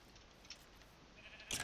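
Sheep in a video game give a short bleat near the end, rising over steady background game ambience.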